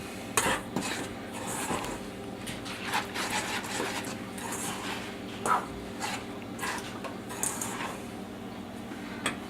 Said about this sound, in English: And you mix these ingredients up.